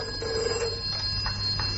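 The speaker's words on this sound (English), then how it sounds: "Just let me take this phone call." An old-fashioned telephone bell rings in a steady, insistent burst, close and fairly loud against faint room hum, with no voices over it.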